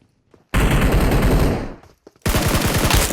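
Automatic Scar-L rifle gunfire in PUBG Mobile, two loud rapid bursts close up, the first about a second long, then a brief pause before the second begins.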